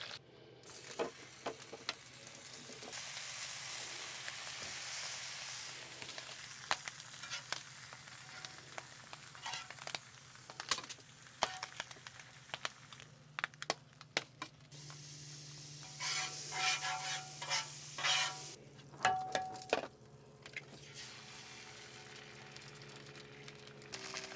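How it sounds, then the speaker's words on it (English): Bacon frying in a pan gives a steady crackling sizzle across the whole stretch, with bright hissing bursts and occasional clinks of a utensil stirring. No one speaks. "bacon cooking up right now"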